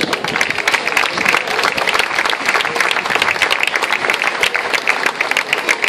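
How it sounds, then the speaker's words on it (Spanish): Concert audience applause welcoming a guest singer at a music event in Gáldar, loud, dense and sustained clapping throughout. "Vamos a recibirle con el aplauso, Antonio Melián"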